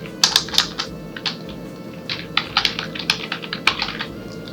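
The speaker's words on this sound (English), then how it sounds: "I am typing here" Rapid, irregular key taps on a computer keyboard while entering text in Adobe Illustrator, with short bursts and pauses, close and clear over a low steady hum.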